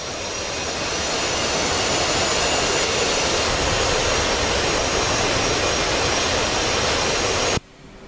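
An F/A-18 jet engine in the DCS flight simulator roars steadily and loudly while taxiing, a dense, even whine-and-rush that holds constant and then cuts off abruptly near the end.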